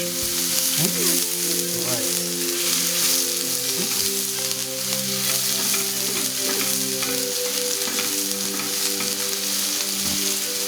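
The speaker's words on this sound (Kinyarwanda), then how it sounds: "Nyuma twita karanga igitunguru cyacu." Onions frying in hot oil for a spaghetti dish, a strong continuous sizzle with crackles and occasional stirring scrapes, loud and close, with a low hum underneath and no speech.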